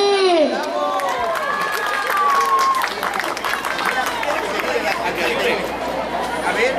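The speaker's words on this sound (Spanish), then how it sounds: "¡El aplauso para Chely!" Applause and crowd chatter for Chely, a prize winner at a municipal Mother's Day celebration, a steady loud wash of clapping and voices with a short whistle near the start.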